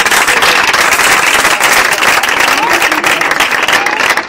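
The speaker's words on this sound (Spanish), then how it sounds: "Un aplauso para aquel que vive" A church congregation breaks into loud, dense applause, sustained and near throughout, with the claps blurring into a continuous roar.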